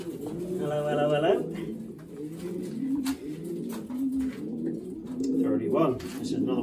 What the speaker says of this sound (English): This pigeon's going.